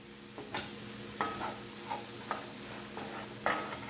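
Taco seasoning being stirred into a walnut taco filling: a handful of soft scrapes and taps of a utensil against the pan, spaced about half a second apart, close over a faint background hiss.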